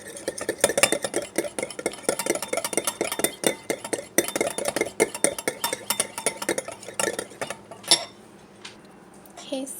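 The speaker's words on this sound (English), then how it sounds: "I'm just going to give this a good mix." A spoon stirs a yogurt-based face mask mixture in a bowl, giving rapid, steady clinks and scrapes against the sides that stop near the end, close and fairly loud.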